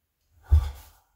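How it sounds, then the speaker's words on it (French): A single deep breath out during an online karate class exercise, soft and close, rising quickly and then trailing off in near silence. "Inspirez, montez sur les pointes de pied. Relâchez, expirez, redescendez."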